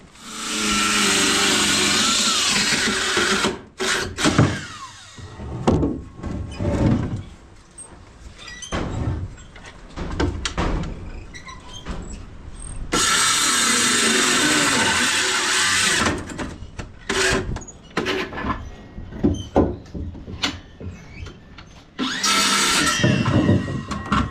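Power tool cutting lumber on the ground for a homemade chicken feeder, loud bursts of whining cutting separated by quieter handling knocks and shuffling, close by.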